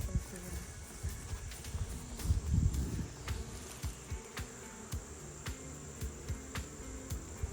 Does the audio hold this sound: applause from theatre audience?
no